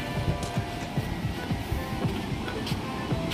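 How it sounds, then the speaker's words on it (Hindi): Water pours steadily at Datam Patam waterfall in Latehar, a continuous rushing roar with faint splashing pulses. The sound is close and unbroken. "ये पानी जहाँ गिर रहा है ये वाला बोलते हैं दातम।"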